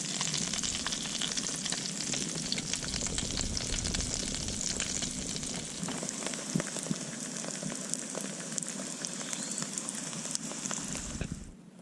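Catfish fillets frying in a pan of hot oil as they are flipped, a loud, steady close-up sizzle and crackle that holds without a break for about twelve seconds, with no talking.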